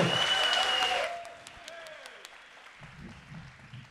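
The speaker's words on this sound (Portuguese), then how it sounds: "Uma salva de palmas, faz barulho aí, Circo Voador!" Audience applause and cheering at Circo Voador, a live talk-show venue, loud at first with a voice over it, then dying away within a second into faint scattered claps and murmur.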